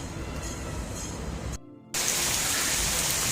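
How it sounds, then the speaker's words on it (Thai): Rain falling at a hillside temple, Wat Tako in Saraburi, Thailand, makes a steady broadband hiss that cuts out briefly midway, then returns louder and closer. "ลุยฝนมา กัน เลยนะครับเพื่อนๆเดี๋ยวเราไป กราบพญานาคกันนะครับ ฮะฝนเลยฮะฝนฝนฝน"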